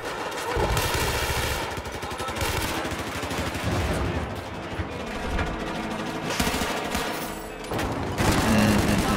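Dense, continuous bursts of rapid gunfire in the video game Battlefield 4 crackle throughout, loud and close, with overlapping shots and louder volleys near the end.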